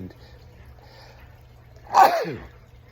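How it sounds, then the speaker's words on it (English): A single sharp sneeze bursts out loudly and close, rising over a quiet background hum. "that was a sneeze"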